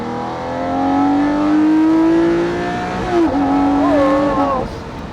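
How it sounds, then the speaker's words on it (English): Lamborghini Murcielago LP640 Roadster V12 pulling hard on a straight, a loud, close engine note climbing steadily in pitch, then a quick gear change and another rising rev as it accelerates again. "that is, I think, the best sounding Lamborghini ever made. Incredible sound."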